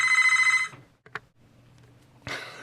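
A landline telephone rings in a quick, rapidly pulsing burst for under a second, then falls silent, leaving only faint room noise and a few small clicks.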